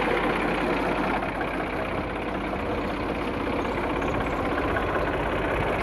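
A 42 hp Mahindra B 295 tractor engine idles steadily and close, its dense low rumble unbroken throughout with no voices.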